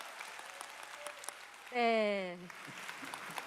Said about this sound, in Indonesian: Berikan tepuk tangan untuk chairman kita.